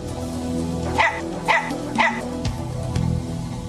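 A dog barks three times in quick succession at the old Santa Cruz club grounds, sharp and fairly close, over a steady background murmur with a faint later yelp.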